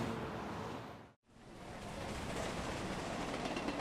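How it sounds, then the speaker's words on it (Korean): A subway train running, heard as a loud, steady rumbling roar from inside the car. It cuts out abruptly for a moment, then resumes at the same level and continues without speech. "지하철이 빠르고 좋아요."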